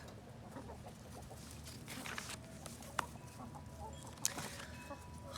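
Chickens in a farm pen give soft, faint clucks and scattered short calls over a low, steady background, with a couple of sharp clicks standing out.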